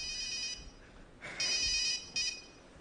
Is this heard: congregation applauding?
no